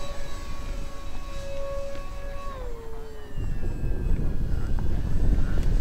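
An Avios KingTwin 1700mm twin-engine RC model airplane climbs out at full power, a steady whining motor tone that dips in pitch and then gives way to louder rushing noise.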